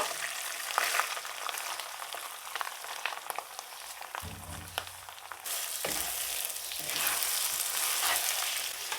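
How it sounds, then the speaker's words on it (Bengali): Washed rice for pulao fries in a pan over medium heat, giving a soft, continuous sizzle with scattered crackles and occasional stirring scrapes, growing a little brighter partway through. "চুলার জালটা মিডিয়াম রেখে চাউলগুলো ভেজে নেব"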